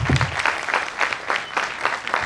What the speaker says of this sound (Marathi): ज्यांनी लिहून काढले त्यांच्यासाठी जोरदार टाळ्या प्लीज.